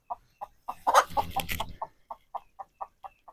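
Chickens cluck in a quick, steady series of short, close calls, with a brief louder flurry of squawking near the start.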